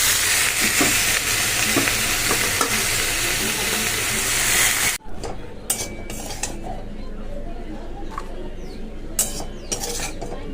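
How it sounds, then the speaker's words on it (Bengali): Sliced radish sizzles in a hot pan for a few seconds, then the frying gives way to quieter clinks of a utensil against the pan and dishes in a home kitchen. "মূলো ভাজা হয়ে গেছে তো এটা তুলে নিলাম"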